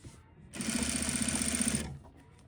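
A sewing machine runs in one steady burst of a little over a second, stitching close to a seam to catch both seam allowances and a pocket facing, with a close, even mechanical whir and no talking.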